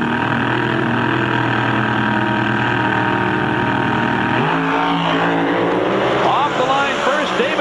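Drag racing cars rev their engines in the staging area of an NHRA drag strip, loud throaty engine roar with rising and falling throttle blips, close and continuous, with a commentator talking over it.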